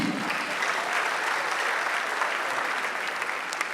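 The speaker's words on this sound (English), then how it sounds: "Please, round of applause for Akapi." A live comedy show audience in Nigeria claps steadily and loudly, a dense, even burst of applause filling the room from start to finish.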